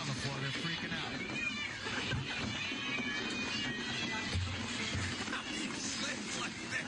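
Several cats meow over one another amid a busy, noisy room with scattered voices in the background.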